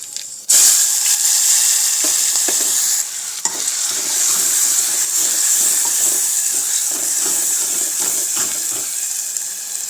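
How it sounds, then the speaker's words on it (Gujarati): Ginger, garlic, chili and onion paste hits hot oil with cumin and curry leaves for a Gujarati val bean curry, bursting into a loud, steady sizzle, with scraping stirs throughout and no voices. "સરસ રીતે સાતળી લઈશું અને થોડી વાર માટે આપણે થવા દઈશું"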